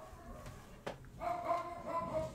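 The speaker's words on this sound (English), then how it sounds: "Damn it, Leo, why are you barking?" A dog in the video game Persona 5 gives a short yip-like bark, followed by a brief whimpering whine over quiet game background sound.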